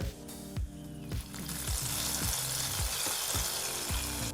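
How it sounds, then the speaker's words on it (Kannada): Raisins and cashews frying in ghee for sweet payasam, a close, bright and continuous sizzle that swells after the first second, with faint rhythmic low thumps beneath it and no talk. "ಎಂಟರಿಂದ ಹತ್ತು ಒಣ ದ್ರಾಕ್ಷಿನ ಹಾಕಿ ಒಂದು ಮೂವತ್ತು ಸೆಕೆಂಡು ಫ್ರೈ ಮಾಡಿದ್ರೆ ಸಾಕು"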